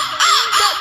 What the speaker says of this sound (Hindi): जिसके घर में कौवा बोलते हैं ना